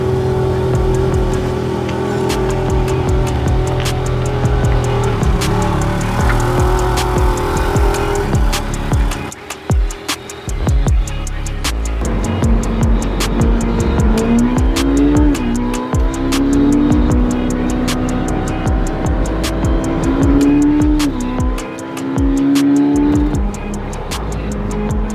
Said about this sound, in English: So we should definitely go out for a drive in it today.